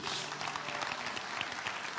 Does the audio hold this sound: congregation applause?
yes